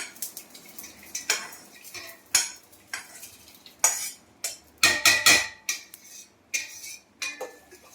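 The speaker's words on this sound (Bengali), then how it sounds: "আমি ভালো করে নেড়ে নিই।" Rice being stirred into hot milk in a pot for payesh, a spoon scraping and clinking against the metal in irregular close strokes, some louder bursts of clatter, with no talking.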